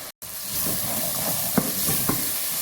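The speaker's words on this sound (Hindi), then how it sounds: "हमारा मसाला जो है वो फ्राई हो रहा है।" Masala frying in ghee in a pot for boneless chicken handi, a continuous bright sizzle with soft stirring scrapes and a couple of light utensil knocks, close and steady.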